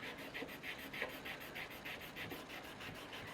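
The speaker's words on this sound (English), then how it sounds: "rub it in with my finger" A finger rubs wood finish into a wooden surface, making a close, rhythmic scrubbing rasp with quick repeated back-and-forth strokes at a steady pace, with no talking.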